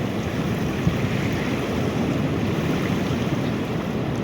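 Ocean waves surge into a tidal pool at Tibu, creating a loud, continuous wash of surf and rushing water with some wind buffeting and no voices.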